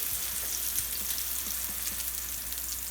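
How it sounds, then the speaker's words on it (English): Blackened salmon sizzling in a hot pan just after being flipped, a dense, even crackling hiss that holds steady throughout at close range. "my lovely assistant, is getting ready to flip the salmon"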